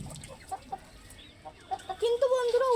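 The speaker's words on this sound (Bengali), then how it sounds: "বড় মুরগিটাকে প্রথমবার আমি ধরতে পারলাম" A large hen clucking as she is caught, a series of short, soft clucks building into louder drawn-out squawks near the close, nearby with faint human speech in the background.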